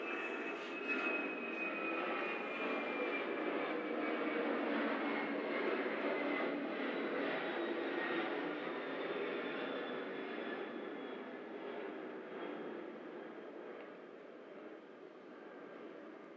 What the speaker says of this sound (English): Let this plane go by.